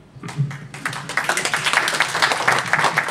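Audience applause at a special board meeting, a dense roomful of clapping that builds from scattered claps into steady, sustained applause.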